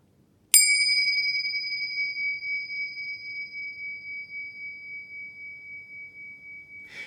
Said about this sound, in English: Now, I also recommend you include singing bells.